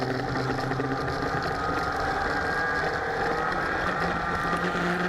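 A race car engine at Sebring drones loudly and steadily at high revs, close and continuous, with no talk and no distinct break for the gear change.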